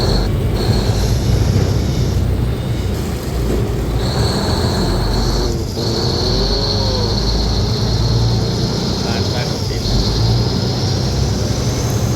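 Loud, steady mechanical rumble and roar of a boat engine heard on board at night, continuous throughout with some high whine, no talking.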